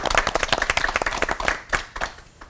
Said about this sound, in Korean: 세 분의 목사님께 오늘도 뜨거운 박수 부탁드립니다.